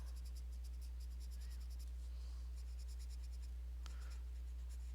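A blending pencil rubbed over paper in short scratchy strokes, faint and close, over a steady low electrical hum.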